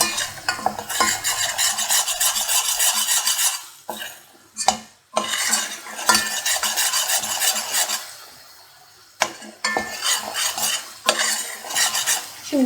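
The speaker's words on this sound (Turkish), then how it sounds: "Beşameli yaparken sürekli karıştırmak önemli." Béchamel sauce stirred continuously in a pan for a chicken sultan kebab, a utensil scraping and clinking against the metal in steady quick strokes with faint sizzling, close, with brief pauses and no talking.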